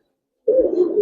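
A Giribaz Silver pigeon, a male, gives a single close, low coo that starts abruptly after a short silence and carries a steady warbling tone.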